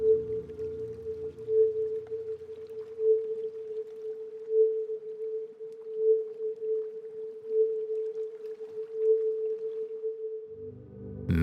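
A 440 Hz healing tone, a single pure steady pitch held for about ten seconds with soft pulsing swells, faint low watery rumble beneath it, then it cuts off.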